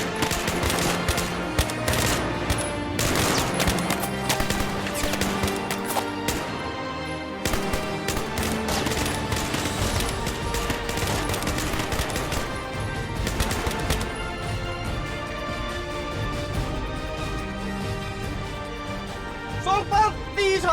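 Sustained rapid gunfire from elite special forces at a shooting drill, dense overlapping bursts of shots rattling continuously, loud and close, with brief lulls before the firing resumes.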